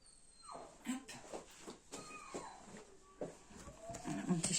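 A small dog whines in a few short, wavering, song-like bursts indoors, fairly close, over a low background murmur.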